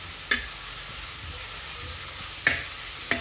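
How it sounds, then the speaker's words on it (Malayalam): Tripe being sautéed for potti fry, a low quiet sizzle in a pan broken by three sharp spatula knocks against the metal, with no talking. "നന്നായിട്ട് വഴറ്റിയെടുക്കാം."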